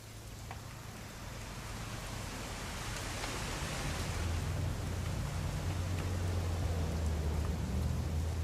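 Steady rain falls in the video game What Remains of Edith Finch, a dense, even hiss that swells slightly louder over the second half, with a low hum running underneath and no talk.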